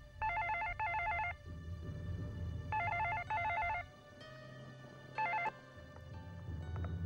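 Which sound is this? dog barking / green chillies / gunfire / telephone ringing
telephone ringing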